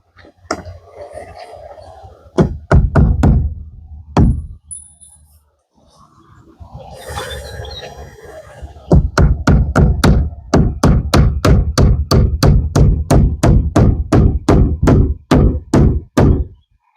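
A hammer drives nails while a prehung window is installed in a tiny house wall, with a few scattered blows followed by a long, fast, steady run of loud close strikes and no talk.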